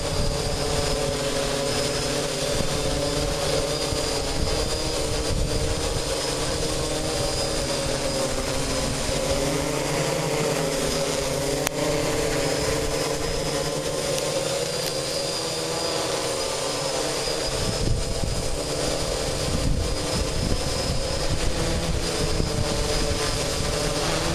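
A DJI Hexacopter 550 drone hovers in high wind, its rotors giving a continuous loud droning whine that merges with the roar of gusting air, steady throughout with no voices.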